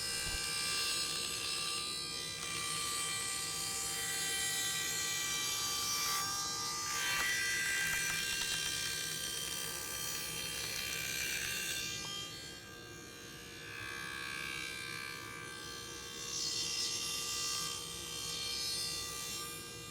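A router cuts a heavy groove into a wooden workbench top for T-track, a continuous high, rasping whine that runs steadily at moderate distance for twenty seconds with slight rises and dips as the bit works through the wood.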